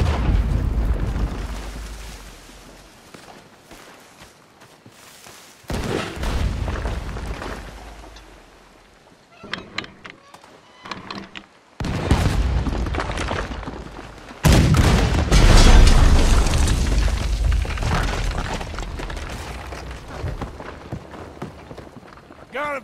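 Heavy cannon blasts and booming explosions in a Red Dead Redemption II ship battle, loud bursts separated by quieter stretches, with game characters shouting over the chaos.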